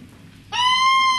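Bare crumhorn reed made of plastic, played outside the instrument, snaps on after a short quiet lead-in and holds one steady, bright, reedy buzzing tone, close and loud, alone.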